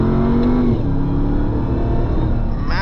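A 2024 RAM 1500 TRX or Bentley Bentayga V8 accelerates at full power in a drag race, giving a loud, close, continuous engine roar with a rising pitch.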